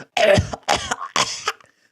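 A person imitates a harsh smoker's cough: three rough, phlegmy hacks in quick succession, close and loud, fading out at the end.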